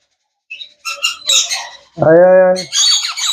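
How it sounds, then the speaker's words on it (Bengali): Yellow ringneck parakeet chicks of a Netherlands bloodline call up close: short chirps and raspy squawks, then one loud, drawn-out harsh squawk followed by more rapid chatter. "অনেক সুন্দর দেখেন yellow ringneck Netherland blood line"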